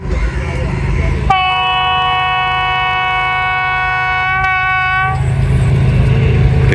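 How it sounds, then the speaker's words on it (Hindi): Business Express passenger train passing through Jahanian station at night, its horn sounding a long sustained chord over the rumble of rolling wagons, with voices chatting nearby. "ये अब ये नाम निहाद जो बिजनेस एक्सप्रेस अभी गई है ये भी देख लें।"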